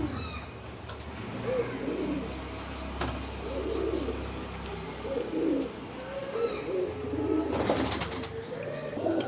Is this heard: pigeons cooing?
yes